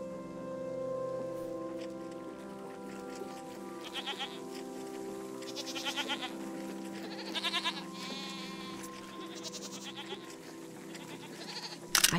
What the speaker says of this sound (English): A beautiful goat.